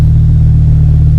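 A forged-engine Ford Focus ST with 415bhp and RS parts pulls hard under power, a steady loud low engine drone holding constant throughout without speech.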